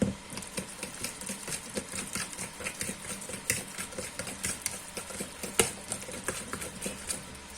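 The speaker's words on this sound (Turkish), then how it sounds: "Sonra yumurtasını vururam, bişirirəm." Eggs are beaten with a fork in a bowl, a quick, steady run of soft tapping and sloshing strokes that carries on throughout, close and fairly quiet with no talking.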